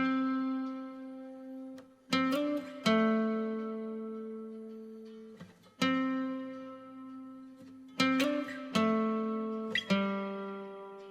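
Acoustic guitar loop doubled by a second guitar an octave below, playing sustained plucked chords with several fresh attacks that ring out and decay, clear and alone, for a beat.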